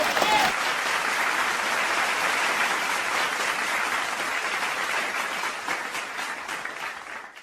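Theatre audience at a Marathi stand-up comedy show in Pune applauding, a dense sustained roar of clapping that slowly fades toward the end.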